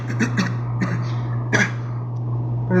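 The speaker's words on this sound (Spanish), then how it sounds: "en verdad hoy la tos ha estado fuera de serie" A few short coughs and throat-clearing bursts come from a person close by, with a steady electrical hum underneath and no speech.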